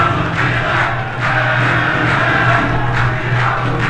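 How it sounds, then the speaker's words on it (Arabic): Al-Shorta supporters chanting in the stands at their home stadium during an Iraqi Stars League football match against Al-Mosul, a dense, steady roar of many voices with rhythmic swells. "اسمع هتافات جماهير الشرطة، جماهير العاشقة للخيثارة الخضراء"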